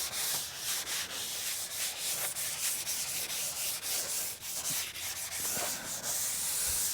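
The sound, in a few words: hand sanding with 220 sandpaper, scuffing camper surface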